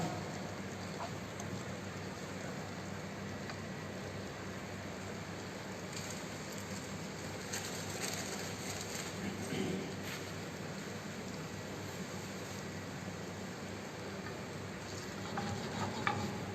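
Vegetables sautéing in a pan, a continuous rain-like frying hiss holding steady throughout with occasional faint stirring scrapes, moderately quiet and alone.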